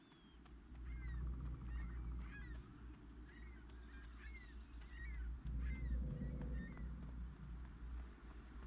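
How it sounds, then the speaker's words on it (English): Seabirds call repeatedly over a low rolling wash of ocean waves in the video game Pantheon: Rise of the Fallen, short chirping cries scattered across a constant, fairly soft surf rumble. "Sounds like ocean birds"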